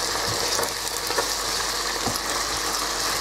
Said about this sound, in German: kurz anbraten. So vielleicht 5 Minuten.